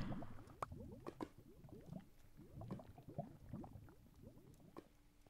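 Lava bubbling and gurgling as it flows down a lava river in a blocky mining video game, with dense soft pops and glugs in an irregular rhythm, steady and moderately quiet throughout.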